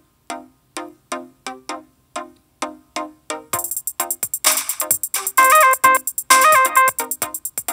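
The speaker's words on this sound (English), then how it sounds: "we've created this little rhythm, but we're not really hearing it as a rhythm yet because it hasn't repeated" A short electronic drum beat pattern built with EarSketch makeBeat plays back alone, starting as sparse evenly spaced hits, then growing busier with dense cymbal-like noise and pitched synth blips layered on top.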